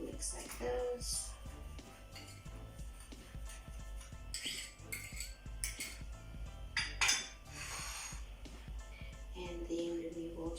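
A metal utensil clinks and scrapes against a bowl while cinnamon is quickly mixed in a home kitchen during holiday baking, with irregular taps and a few louder knocks over a quiet background.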